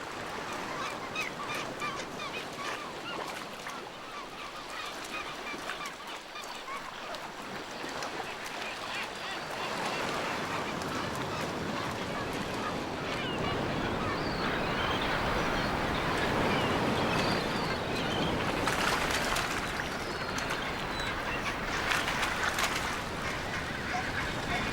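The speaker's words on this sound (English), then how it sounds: "Kelp gulls share the bigger pieces." Kelp gulls squabble and call while feeding on scraps at a leopard seal kill, a busy mix of harsh honking cries over sloshing water, moderately loud and continuous.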